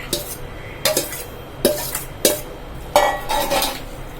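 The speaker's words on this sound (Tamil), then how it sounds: "இப்போ நான் ஊற்றி பெரட்டுறேன்." Ponnanganni greens and cooled tomato being poured into a pan and stirred, giving a handful of close, spaced clanks and scrapes of a utensil against the pan with no talking.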